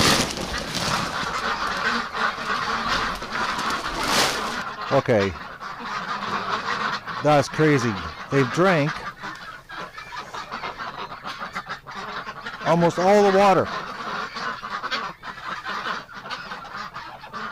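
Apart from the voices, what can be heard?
ducks quacking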